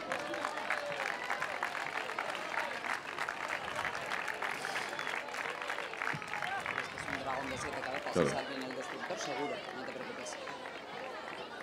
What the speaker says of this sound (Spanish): Venga, un aplauso.